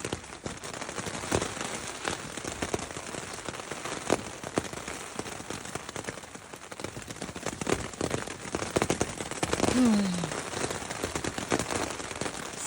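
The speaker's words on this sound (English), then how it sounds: "Still raining" Steady rain patters on a tent along the Appalachian Trail, a dense, continuous hiss of drops close overhead with occasional louder splats and no voices.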